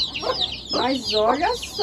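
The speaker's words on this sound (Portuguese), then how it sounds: "A galinha é brava." A fierce backyard hen clucks in short bursts close by among a crowd of newly hatched chicks in the Amazon, with someone speaking briefly over the calls.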